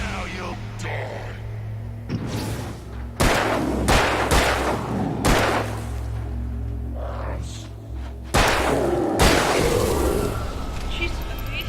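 Gunfire in the Alan Wake video game, several sharp loud bursts between about 3 and 10 seconds, some in quick succession, over a steady low game hum. People talk between the shots.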